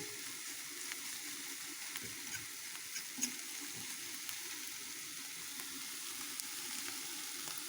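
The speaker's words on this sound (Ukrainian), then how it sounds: "його трішки перемішаю з цією всією портулачком з цим, щоб воно якби перемішалося гарненько" Purslane fries in a pan with steady sizzling, with occasional soft scraping and clinks as it is stirred; no voices.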